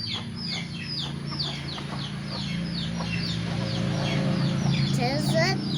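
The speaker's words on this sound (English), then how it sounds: "family chicken. Family chicken." A family of chickens, a rooster, hen and chick, clucking repeatedly and close by, the calls coming in quick overlapping bursts over a steady outdoor hum.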